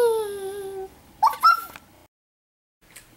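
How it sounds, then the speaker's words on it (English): A cute puppy pet in the Adopt Me game gives a short rising whine followed by a couple of quick yelps, then silence and a faint final chirp. "cute puppy. Cute puppy."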